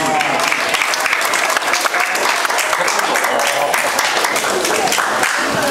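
Sustained applause from a large audience at a Korean War armistice anniversary ceremony, loud and steady throughout without pause.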